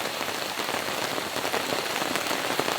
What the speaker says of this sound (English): Right now it's raining so hard